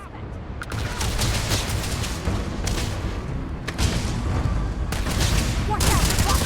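Dense, loud gunfire rattles through a Starfield video game shootout, with overlapping volleys and heavy booms running almost continuously. Brief gaps separate the bursts, and there may be faint game voices underneath.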